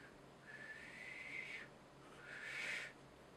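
Two faint, breathy whistled notes from a person, each held for about a second with a short gap between, airy and somewhat unsteady.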